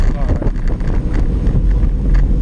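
Wind rushes and buffets constantly across the microphone during a group road cycling ride on a rural road heading west, a close, loud rumble with gusty swells throughout.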